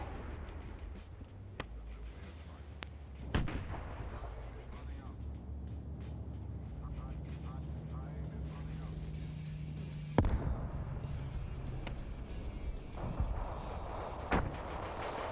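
Repeated heavy grenade machine gun bursts in the Arma combat game: booming launcher fire and distant impacts thump across a busy battlefield soundscape, with sharp loud reports standing out at intervals.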